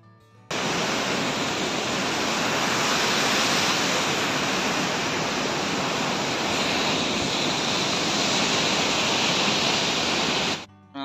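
Loud, steady roar of falling water, a dense hiss that fills the scene without pause, starting abruptly and cutting off at the end.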